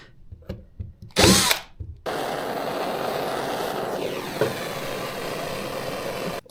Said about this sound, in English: Sand to this part where the damage is.